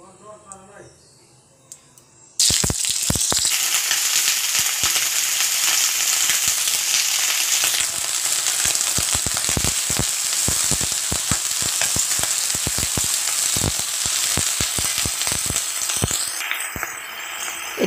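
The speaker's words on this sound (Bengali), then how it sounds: "এতিয়া মই ফুলকবি আলুখিনি ধুনিয়াকে ভাজি লম" Cauliflower and potatoes hitting hot oil in a kadai, a sudden loud sizzle after a quiet start, then steady intense crackling and popping with frequent sharp spatters, close up.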